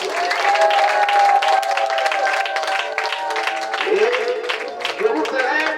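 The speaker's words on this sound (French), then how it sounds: "Acclame pour la restauration." A church congregation applauds, sustained clapping from a crowd that runs throughout, while a preacher speaks French over it and music plays along.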